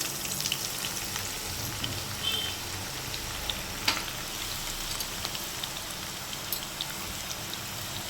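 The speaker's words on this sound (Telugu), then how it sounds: "ఆనియన్ కొంచెం బ్రౌన్ అయ్యేదాకా ఫ్రై చేసుకోండి." Chopped onions fry in hot oil with crackling mustard and cumin seeds, a soft, continuous patter of sizzling pops at low volume with no talking.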